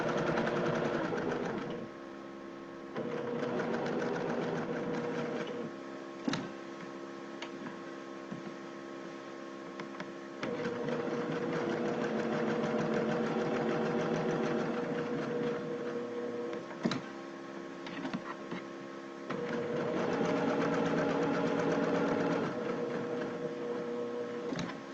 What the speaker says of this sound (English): now I'm going to do my double stitching